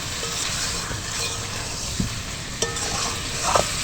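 Potatoes sizzle steadily in a pan as biryani masala is stirred in, with occasional clinks and scrapes of the spoon against the pot, close and without talk.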